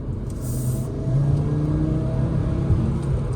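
A 2024 Audi RS3 engine pulls at about 25% throttle in comfort mode, a smooth, steady low hum and whir heard from inside the cabin, building slightly as the car accelerates.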